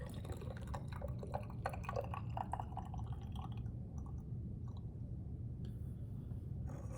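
Water poured through a funnel into a glass measuring cylinder, a close, steady trickling and splashing that thins out midway into faint drips and quieter flow.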